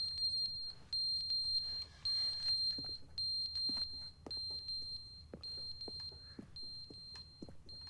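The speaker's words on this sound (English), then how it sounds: "Why is there a beeping sound?" Shrill electronic beeping in the video game The Stanley Parable Ultra Deluxe repeats in steady pulses, a piercing tone sounding alone with soft clicks in between.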